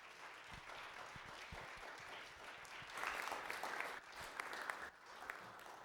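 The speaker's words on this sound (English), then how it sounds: "let's please give them one more round of applause" Applause from a church congregation honoring its Trinity Community Church musicians, a steady wash of many hands clapping at a moderate distance, swelling briefly midway before tapering.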